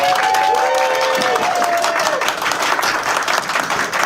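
Loud, dense audience applause with some cheering from a crowd right after a mock wedding skit, steady throughout with a brief whistle-like tone early on.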